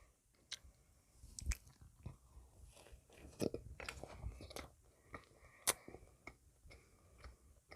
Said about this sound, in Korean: 도넛 한 개 먹방을 해보도록 하겠습니다